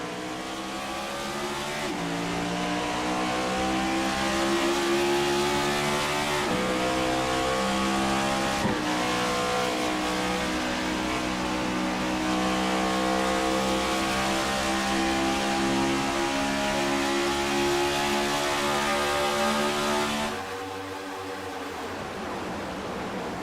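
A pack of race cars in the iRacing game roars through a restart at Charlotte Motor Speedway, engines droning loud and continuous with layered harmonic whines, then suddenly dropping in intensity near the end.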